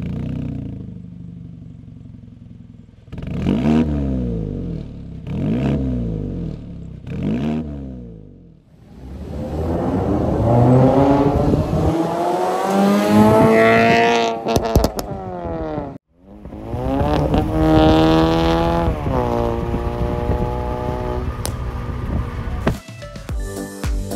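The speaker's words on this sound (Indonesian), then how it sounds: "gue bikin mesinnya jadi bukan pop and bang sih, gue pengennya crackle doang karena pop and bang terlalu berisik" Remapped Mazda 3 hatchback engine revving through an exhaust tuned for crackle, with repeated loud rising and falling revs close by, then longer sustained high revs, with no talk.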